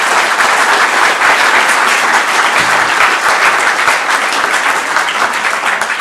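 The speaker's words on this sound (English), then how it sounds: "give a big round of applause to the director, Dr. Joe Mulholland" Loud, dense audience applause for the director Dr. Joe Mulholland at the MacGill Summer School, sustained evenly for about six seconds with no break.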